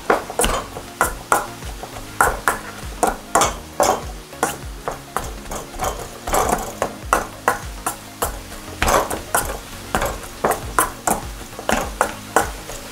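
Crème fraîche and mustard being stirred in a pan with a spoon, producing rhythmic scraping and clinking strokes about once a second, close and clear, with a light sizzle underneath and no talk.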